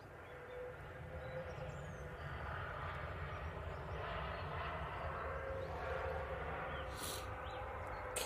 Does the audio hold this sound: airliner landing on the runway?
yes